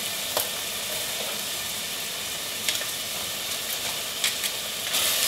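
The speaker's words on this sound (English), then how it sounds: "Heat olive oil in a pan. Add onions," Onions and garlic frying in hot olive oil in a pan make a steady, close sizzle with crackling pops throughout, and no voices are heard.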